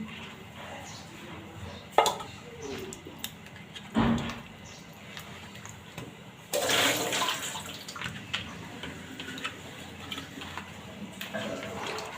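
Fish being washed in water for cooking, with steady splashing and swishing broken by a few sharper knocks, close by and continuous.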